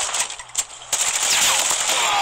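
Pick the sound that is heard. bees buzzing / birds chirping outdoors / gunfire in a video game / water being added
gunfire in a video game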